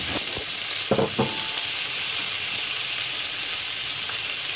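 Pork meat sizzling loudly in a hot pan as it is stir-fried with garlic, a steady dense frying hiss heard close up, with a few brief stirring clatters near the start.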